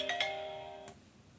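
A phone ringtone plays a brief, faint chime of a few bright tonal notes lasting under a second, then fades into quiet, with no talk over it.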